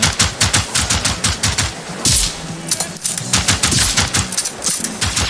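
Rapid bursts of gunfire from enemies shooting at the player in a video game, sharp cracks in quick irregular clusters, loud and close, with short pauses between volleys.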